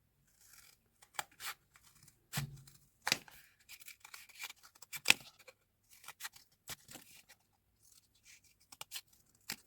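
Scissors snip through flattened cardboard toilet roll tubes for a Christmas craft, a series of sharp crisp cuts and rustling scrapes at an uneven pace, close and fairly quiet, with no talking.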